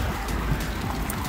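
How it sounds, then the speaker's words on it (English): Hail battering down outdoors on a dog walk, a dense, steady hiss and patter filling the short stretch with no voices. "Being battered with hail!"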